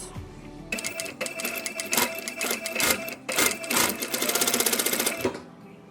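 A sewing machine runs in fast, rattling bursts while stitching a decorative reinforcing seam using a straight-stitch presser foot, loud and close, with short pauses between runs and no voices.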